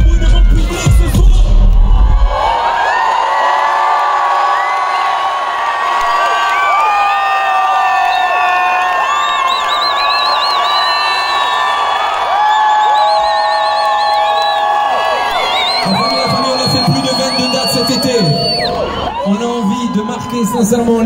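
A festival crowd at the Yzeure N Rock rock concert cheers, whoops and shouts loudly and without a break for about twenty seconds, and the roar thins toward the end.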